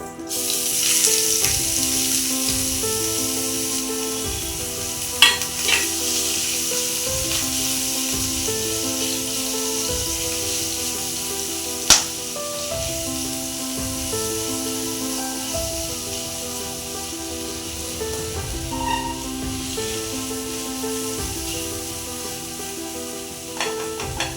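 Cabbage frying in a pan, a steady close sizzle running throughout with a few sharp knocks and clicks, while background music plays underneath.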